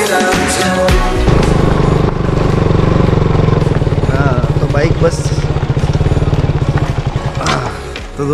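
Motorcycle engine running steadily and loudly up close for the whole stretch, a continuous throbbing drone with a faint voice or two mixed in, during a ride to a Hanuman temple near Bassi.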